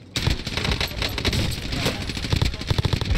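Rapid automatic gunfire in Call of Duty Modern Warfare Ground War, dense close bursts of shots running almost nonstop, with a player talking over the shooting.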